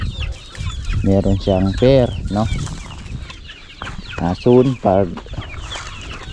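Kubra chickens on a livestock farm cluck in short harmonic bursts, a few close calls in two clusters, with someone talking over and between them.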